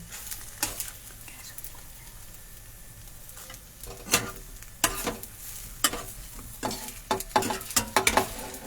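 Kheer patisapta crepes cook in a pan, a soft sizzle with a string of sharp scraping and clattering bursts as they are turned, growing busier toward the end.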